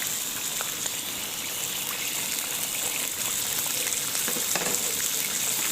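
Chicken and onions frying in a karahi for Kashmiri chicken karahi give a steady, broad sizzle with watery, gushing texture throughout, close and even, with no talking.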